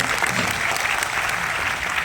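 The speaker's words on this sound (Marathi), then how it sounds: "टाळ्या वाजवा एकदा साऊंडवाल्याचा." Steady applause from a crowd for the sound crew at a live event, loud and continuous, with no break and no talk over it.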